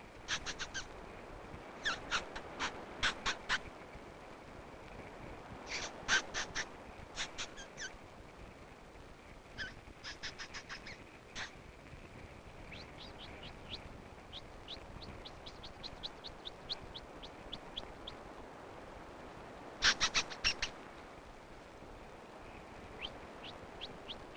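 A man imitates a black robin's call with short bursts of high chirping whistles, repeated in clusters with pauses between, fairly faint over quiet outdoor ambience.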